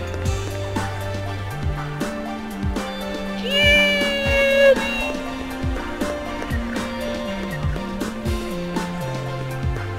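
A cat meows in the Tokyo Mirage Sessions ♯FE video game, a short rising cry standing out near the middle over steady game music with a plodding bass line.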